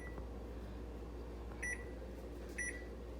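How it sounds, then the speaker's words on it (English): A kitchen timer being set for pizza gives two short, faint electronic beeps, spaced about a second apart, over a steady low hum from the room. "Set the timer"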